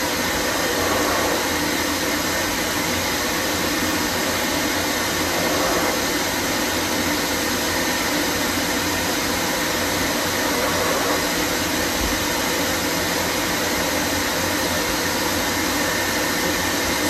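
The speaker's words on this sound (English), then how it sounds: "Now the pressure from the dryer is what's going to help push stuff out." A steady, loud rush of blowing air from a high-powered pet grooming dryer on an Afghan Hound, continuous and unbroken throughout with no voices.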